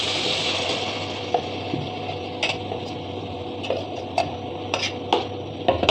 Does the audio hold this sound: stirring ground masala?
yes